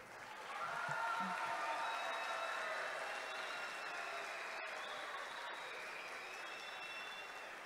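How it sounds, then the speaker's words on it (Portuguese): An audience at an evening school orchestra event in Carazinho applauds steadily, a dense wash of clapping that swells quickly and holds at an even, moderate level, with a few faint whistles. "palmas para a última escola a se apresentar esta noite."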